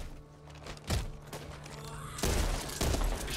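Shotgun blasts in the zombie shooter game Back 4 Blood. Several heavy booming shots land at uneven intervals over continuous game noise.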